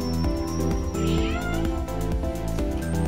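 Mog the cat meows insistently in a series of distressed calls, close and clear above a dense, steady background of sound.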